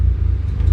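Turbocharged Honda Civic engine running rich, a steady low rumbling idle heard close up and alone for under a second.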